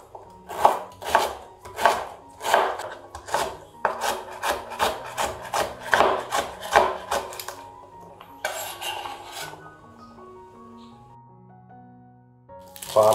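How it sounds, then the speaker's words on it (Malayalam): A knife slices through a radish on a wooden board in a quick, even series of close, crisp chopping strokes, about a dozen in a row, then a few sparser scraping sounds before it falls quiet. "ഇതിൻ്റെ സെൻറ്ററിൽ നിന്ന് കട്ട് ചെയ്തതിന് ശേഷം ഇതേപോലെ ഒന്ന് സ്ലൈസ് ചെയ്യാം."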